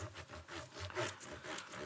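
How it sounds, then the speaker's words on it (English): A microfiber cloth dampened with naphtha rubs gum and grime off a guitar fretboard, a quiet scrubbing of repeated back-and-forth strokes heard up close, faint, with no one talking. "cleared out all the gum and gunk off of that board"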